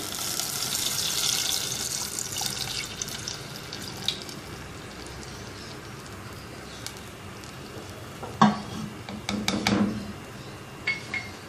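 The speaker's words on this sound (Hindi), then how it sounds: "2 कप के बराबर पानी डालेंगे।" Water pours steadily into a cooking pot of mutton with a splashing rush, followed by quieter drips and a few clinks of metal.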